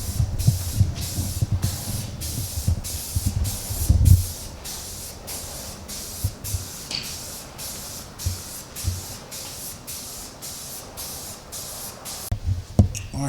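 An aerosol can sprays flat black primer onto a car exhaust manifold in a long series of short, evenly spaced hissing bursts, close and fairly loud, with light handling thumps between some passes.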